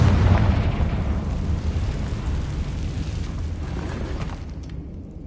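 Confringo blasting spell in the video game Hogwarts Legacy, a loud close explosion whose deep rumble fades out over a few seconds.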